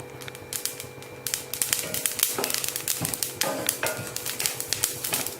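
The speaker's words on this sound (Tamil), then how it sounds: "அது படபடன்னு வெடிக்கிற சத்தம் கேட்குது." Flax seeds dry roasting in a pan for idli podi, giving off a dense run of sharp little crackles and pops over a low sizzle, close and fairly loud, with no talking.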